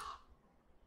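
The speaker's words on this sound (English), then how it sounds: "Fuck you, crow." A crow gives a single short caw in the video game Hand Simulator, faint and brief over quiet background noise.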